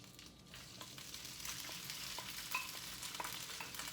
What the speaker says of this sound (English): And stir our rice occasionally for about 5 minutes